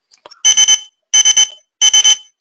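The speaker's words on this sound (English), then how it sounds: "I'm going to beep the scanner now." A Zebra barcode scanner beeps as it reads a code: three loud, close, high-pitched beep clusters, each a quick triple pulse, evenly spaced in an otherwise silent room.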